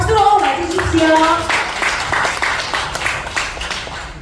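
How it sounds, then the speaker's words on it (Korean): An audience at a business event in Seoul breaks into applause to welcome a speaker, brief scattered clapping that follows a short stretch of talk and fades gradually. "박수로 맞으십시오."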